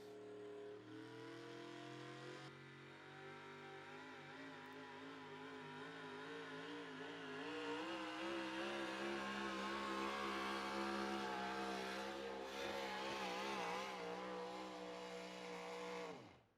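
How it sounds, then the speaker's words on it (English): A modified 4x4 pickup with a Big Block Chevrolet engine on an outlaw truck pull track in Rock Valley, Iowa, roaring continuously at high revs, building louder over the run before cutting off abruptly. "Matt Driscoll built Big Block Chevrolet under the hood of that pickup"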